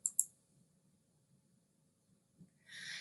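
Two quick computer mouse clicks sound close up at the start, then near silence with faint background hum, ending in a soft rising hiss.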